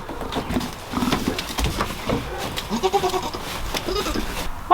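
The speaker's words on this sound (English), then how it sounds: "we've got little goat babies on the farm now" Baby goats on a farm bleating: several quavering, close bleats over a busy background of rustling and movement, without clear talk.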